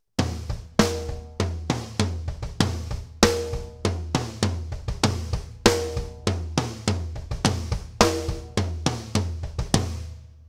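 A steady rock drum groove loops on a close, dry kit, with rapid doubled 32nd-note bass drum hits tucked between snare backbeats and cymbals.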